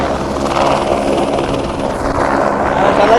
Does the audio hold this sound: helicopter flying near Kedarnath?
yes